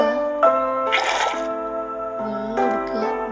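A bucket scooping up water in Minecraft: two short watery splash effects in the game, heard over steady background music.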